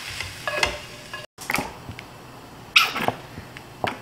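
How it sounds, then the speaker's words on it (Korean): Blanched spinach gently sautéed in butter with onion over medium-low heat, with scattered scraping stir strokes and a light sizzle coming in short bursts, close by and with no talking. "그래서 갈색 나지 않게 살짝 볶아 뜹니다"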